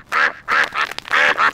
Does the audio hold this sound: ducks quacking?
yes